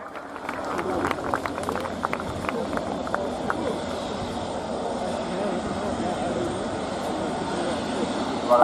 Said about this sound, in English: Captain Ivo Kardoš from the 211th Tactical Squadron of the Czech Air Force with the Saab Jas-39C Gripen